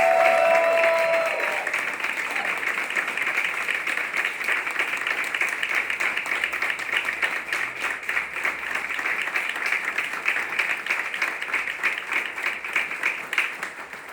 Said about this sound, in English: I'd like to present and ask for your applause for Gail Tallis.